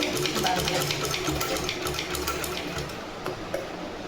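A sewing machine stitches fabric in a rapid, steady rattling run, slowing and pausing briefly toward the end, heard close with a person talking over it.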